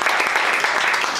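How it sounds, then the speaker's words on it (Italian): An audience breaks into loud, sustained applause, a dense and even patter of many hands clapping at once with no voices standing out. "Intanto facciamo un applauso preventivo per il suo momento."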